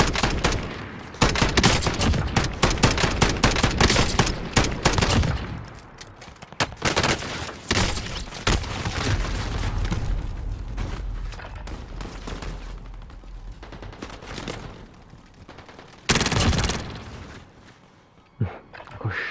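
Dense gunfire in the video game Warzone, with rapid automatic bursts and sharp shots packed together, loud and nearly continuous, easing briefly before another heavy volley near the end.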